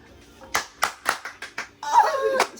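A small group of people clap in a few separate, uneven bursts, close by, with a brief stretch of a voice talking near the end.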